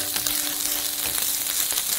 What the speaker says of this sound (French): Et faites frire les oignons jusqu'à ce qu'ils soient complètement transparents.